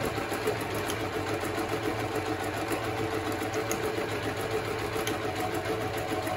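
A Privileg Super Nutzstich 5010 sewing machine runs steadily while stitching in reverse, giving a continuous close mechanical whir with a fast, even needle rhythm throughout.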